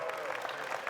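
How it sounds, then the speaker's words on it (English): An audience at a DEF CON 30 magic show claps for a volunteer who has just helped the magician, a short burst of crowd applause. "Give him a round of applause, everybody."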